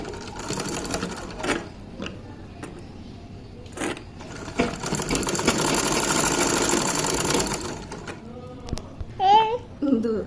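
A domestic sewing machine stitching the sleeves of a child's half pants, running in bursts of rapid mechanical whirring with pauses, the longest run sustained for several seconds, while someone talks between stitches.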